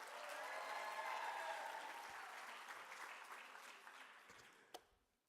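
Audience applause at an arts prize award ceremony swells then gradually fades over a few seconds, ending with a single sharp clap and quiet.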